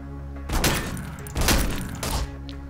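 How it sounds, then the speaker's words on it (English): Grenade blasts in the first-person shooter E.Y.E. Divine Cybermancy: two loud, heavy thumping bursts about a second apart over a steady low game hum. "That's a grenade."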